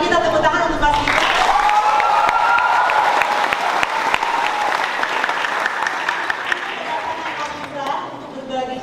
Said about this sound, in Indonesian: Sekali lagi semua, mari kita tepuk tangan untuk Mas Gibran.